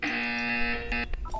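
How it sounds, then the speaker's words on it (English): A buzzer in the Portal 2 video game sounds one sustained, harsh electronic tone lasting about a second, then cuts off into brief clicks. "You will hear a buzzer."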